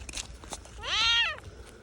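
A cat gives a single clear, drawn-out meow lasting about half a second, close and fairly loud over faint background noise and a few soft knocks.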